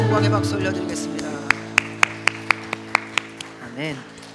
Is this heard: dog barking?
no